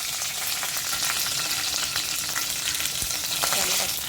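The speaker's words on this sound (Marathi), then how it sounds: "कढईत तेल ठेवलं आहे मी तेल टाकलं आहे आपलं चांगलं एक चमचा मोहरी टाकली आहे एक चमचा जिरं टाकायचं आहे" Mustard seeds and cumin frying in hot oil in a kadhai, a loud continuous sizzle with sharp popping crackles scattered throughout, close and alone without talk.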